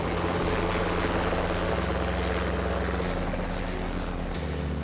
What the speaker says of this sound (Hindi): एयर शो की शुरुआत सारंग हेलीकॉप्टरों की टीम के साथ हुई।